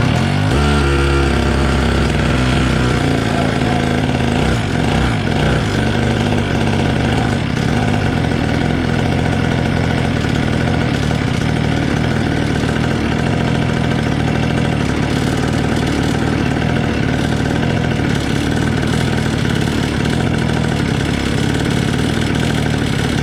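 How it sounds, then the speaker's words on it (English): A SYX MOTO motorcycle engine catches and then idles loudly and close for over twenty seconds, a steady unbroken chug with no talking. "I'm going to try it with the engine start."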